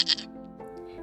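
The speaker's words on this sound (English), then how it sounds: "A wolf heard the goat." A big goat bleats once, short and bright and nearby, in a children's story about a farmer and a wolf, followed by a faint tonal background.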